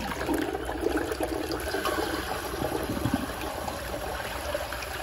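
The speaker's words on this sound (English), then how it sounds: "But yeah, here's another flush." A 1998 Universal Rundle Athens toilet with an open rim flushes, its water rushing in a steady, close, continuous gush that carries on without pause.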